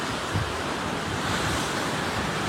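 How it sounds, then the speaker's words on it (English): Ocean waves surge back in at Pleasure Point, Santa Cruz, after the Tonga volcano eruption tsunami, a continuous roaring wash of surf mixed with gusty wind noise on the microphone. "And now the ocean's coming back in, surging back in."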